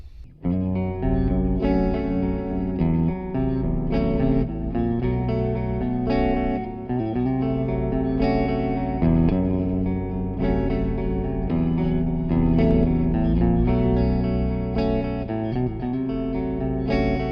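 Electric guitar plays sustained chords and notes through an amp modeler with an IR cab setting, echo repeats and a reverb wash, loud and continuous, the tail of each note ringing into the next.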